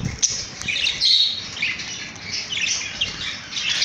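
Parakeet chicks in an aviary give a busy stream of high, scratchy squawks and chirps, close and fairly loud, with a short flutter of wings near the start.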